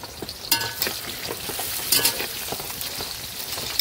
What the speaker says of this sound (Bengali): এখন ভাজছি বেগুন